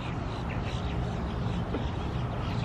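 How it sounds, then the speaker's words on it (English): Ducks quacking outdoors by the water, a steady chorus of calls running through the whole stretch over constant background noise. "So let's just ignore the birds"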